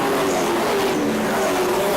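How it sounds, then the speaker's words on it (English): Race cars at Warnerton Speedway, V8-engined endurance racers in a European Le Mans Series event, roar past close by with a loud, steady engine drone that holds throughout. "The awesome noise of those V8s thundering around this Warnerton Speedway"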